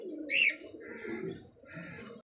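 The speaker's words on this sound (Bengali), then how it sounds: "দেখতে পাচ্ছি আনকমন কালারের মধ্যে একজোড়া কিন্তু হাই ফ্লার কবুতর" A pair of uncommon-coloured high flyer pigeons coo close by in two or three soft, throaty phrases, with a brief higher chirp near the start and no talk.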